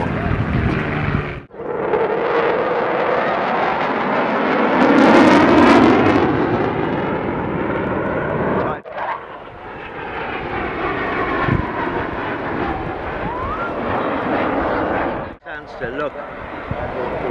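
A vintage World War II warplane roars past at an airshow, its loud engine drone swelling and fading across the pass, with brief dropouts and voices in the crowd underneath.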